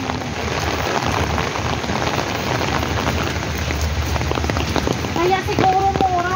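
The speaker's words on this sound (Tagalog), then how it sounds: "Kasi umuulan." Steady rain falls throughout, a dense close wash of drops on a surface, with people talking faintly and a few brief tonal sounds near the end.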